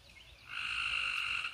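Tree frogs croak all around outdoors in the country, a dense, steady chorus of high-pitched trilling that swells in after a quiet start and holds loud and continuous to the end.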